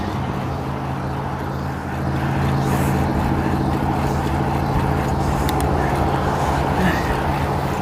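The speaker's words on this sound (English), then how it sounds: "Noisy truck." A noisy truck passes on a road in Cheyenne, Wyoming, its broad engine rumble and road roar swelling and holding loud and steady, heard from inside a moving vehicle.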